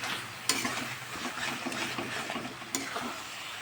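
Spice paste sautéing in oil in a pan, a steady close sizzle with repeated scraping stirs and a couple of sharp clinks from the spoon against the pan, no voices.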